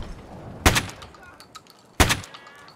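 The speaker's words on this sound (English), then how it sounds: "I'm shooting a scav." Two sharp gunshots in Escape from Tarkov, fired at a scav, cracking loud and close about a second apart, with faint thumps and quiet game noise between them.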